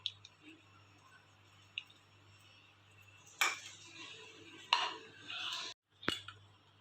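Sev khamani ingredients are stirred in a bowl, giving quiet, sparse scrapes and a few sharper spoon clinks and rattles against the dish, with short pauses between them.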